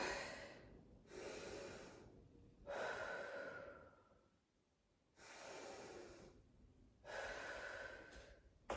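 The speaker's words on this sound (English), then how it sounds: "I'm still catching my breath" Heavy, labored breathing after sprint interval training, four long loud gasping exhales and inhales in an uneven rhythm with short pauses between, close and alone with no talk.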